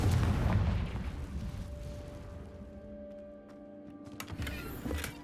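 A Confringo fire spell in Hogwarts Legacy goes off as a deep booming blast that fades into a low rumble, followed by a few sharp pops and crackles near the end, with no talking.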